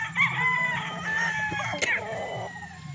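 A gamecock bull stag, a one-time fight winner, lets out a single loud, drawn-out crow nearby, with a little clucking before and after.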